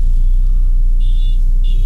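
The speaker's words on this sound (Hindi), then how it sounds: "गाड़ी निकालूँ पहले मैं यहाँ से भीड़ भाड़ से" A Mahindra XUV300 edges out through crowded traffic near the Taj Mahal, a loud steady engine rumble from inside the car with faint horn-like tones over it.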